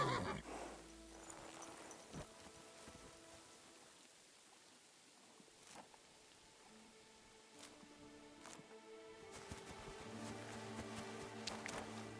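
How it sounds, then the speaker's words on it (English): A horse in the medieval game Kingdom Come: Deliverance 2 whinnies near the start, then hooves clip-clop at intervals against steady falling rain. The sound is quiet overall, with a fuller burst of activity toward the end. "Easy, good horse."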